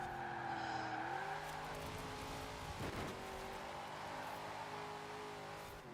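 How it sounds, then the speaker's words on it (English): A heavy track car's engine screams at maximum load during a race, a loud, sustained high-revving roar with shifting pitch, sweeping through a brief dip near the middle before holding steady at full strain. "This engine just screaming at max load."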